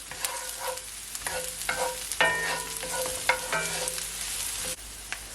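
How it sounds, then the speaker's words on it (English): Onions sautéing in olive oil in a pot for beef tacos, a close, steady sizzle broken by a few sharp utensil clicks and stirring scrapes, with no talking. "Just gonna leave it to saute for at least 15 seconds."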